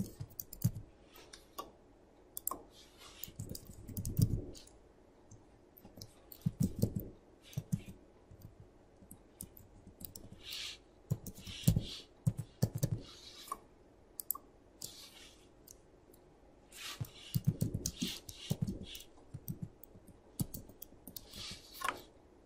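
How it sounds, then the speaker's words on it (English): Someone types registration details into a software installation wizard on a computer keyboard, giving bursts of quick key clicks with pauses between them, close and fairly quiet with no talking. "it says type in your information, and let's type in"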